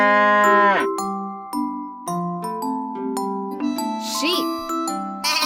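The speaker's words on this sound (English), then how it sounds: "Cow." A cow moos once, a long, loud, falling low bellow at the start, then a bright tinkling children's melody carries on with chime-like notes.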